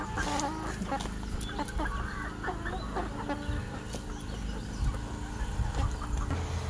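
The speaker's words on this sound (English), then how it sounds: "there's a chicken on my back." Backyard garden chickens cluck continuously, close and busy, with scattered squawks over outdoor ambience on a chilly, wet day; no talking.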